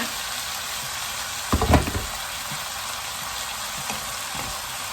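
Minced pork and carrots stir-fry in sesame oil with oyster sauce, a steady soft sizzle broken by a brief cluster of louder scraping and clattering stirs near the middle, then a quieter sizzle with one faint knock.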